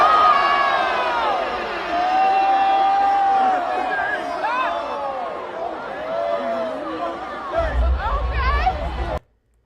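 A concert crowd at the Roots Picnic cheers and shouts, a dense roar of many voices with excited calls rising over it, ending abruptly.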